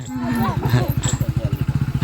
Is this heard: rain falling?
no